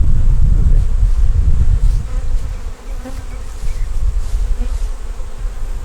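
Dense buzzing of many honey bees at an open hive, loud and close, with low rumbling wind noise at first that eases off partway through.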